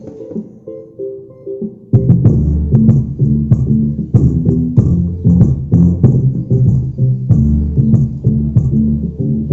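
A table vibrates and buzzes from the bass of a Zebronics subwoofer. Low, thumping music beats come through with a rattly throb, first quiet, then louder and pulsing from about two seconds onward.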